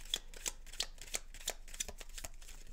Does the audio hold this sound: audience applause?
no